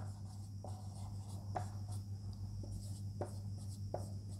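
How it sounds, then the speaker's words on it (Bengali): Chalk or marker strokes on a board while notes are taken, a handful of short scratchy marks spaced irregularly over a steady low hum, fairly quiet and with no talking. "এখানে আমি লিখে নিলাম ফিল্ড। এবার এদিকে ফাদার বা জনক কে সেটা লিখব, ডাক্তার রবার্ট"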